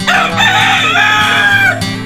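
Chickens in a cage on a rooftop farm in Dhaka, with one loud, close rooster crow that carries on for about two seconds over a layer of clucking, and no voices.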